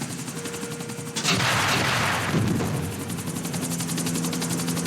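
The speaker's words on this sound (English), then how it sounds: "He's taking the chopper!" Helicopter in GTA IV: The Ballad of Gay Tony, a steady loud rotor drone that swells after a sharp onset and runs continuously, with gunfire-like bursts mixed in.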